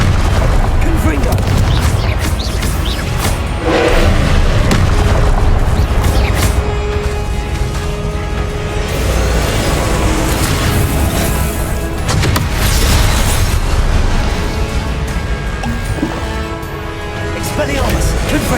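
Repeated Confringo blast explosions from Hogwarts Legacy boom loudly through a busy spell fight, deep thuds rising over constant game sound and voices.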